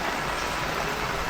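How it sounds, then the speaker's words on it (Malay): Steady rain pours down at a campsite in Kluang, Johor, a dense continuous hiss of drops hitting surfaces close by, with no voices over it. "Hujan tak berhenti?"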